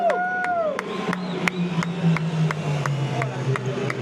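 Spectators at the 2024 Le Mans endurance race cheer and make noise after the finish, a broad crowd roar with whistles and scattered sharp bangs, while people nearby talk over it.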